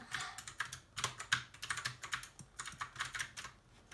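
Quiet, rapid clicking of a computer keyboard being typed on while playing Roblox Highrise Tycoon, in irregular bursts of keystrokes close to the microphone.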